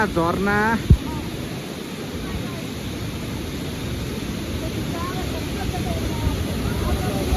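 A waterfall near Titi Lake in Mustang roars as a constant broadband rush, with a brief shout and a person speaking faintly over the steady noise early on.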